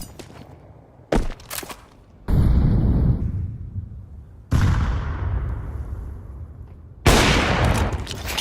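Gunfire in a professional Counter-Strike match, several sharp loud bursts with booming tails separated by quieter gaps, heard with no talk over it.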